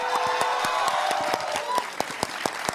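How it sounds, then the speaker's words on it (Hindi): Children clapping together in a room, a loud, steady patter of many hands with sharp individual claps standing out, mixed with a faint hum of voices. "ऐसे ताली बजा रहा है और पूरी ताकत के साथ ताली बजा रहा है"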